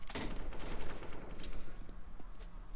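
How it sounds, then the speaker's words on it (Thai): Gunfire in Counter-Strike: Global Offensive, a steady stream of loud shots and rapid bursts filling the whole stretch, with no voices over it. "และก็ยิงได้อีกหนึ่งคนนะฮะ"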